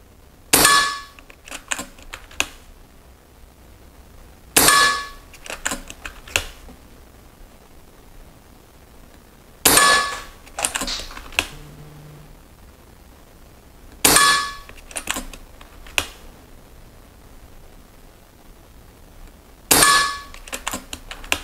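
An air rifle fires diabolo pellets into ballistic gelatine in front of a pellet trap. Five sharp, loud cracks come at even intervals of about five seconds, each followed by short clattering echoes, with no voices.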